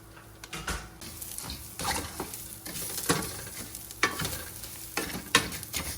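Onion and minced garlic sizzling in a hot pan while being stirred, with scraping strokes and soft clatters over a continuous frying hiss.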